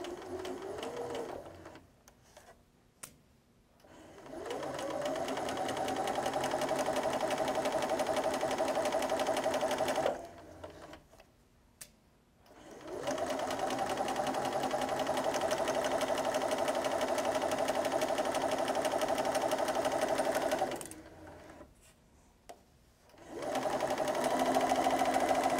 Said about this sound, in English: Now I'm going to chain piece the next square so that I don't have to break the thread.